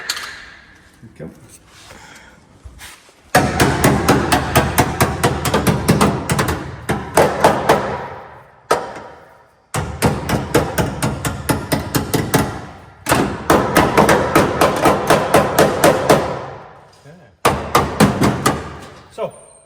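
Hammer blows strike the frame of a 1968 Camaro barn find in a workshop, fast bursts of loud metallic knocks in several runs with short pauses, a voice talking briefly before the pounding starts.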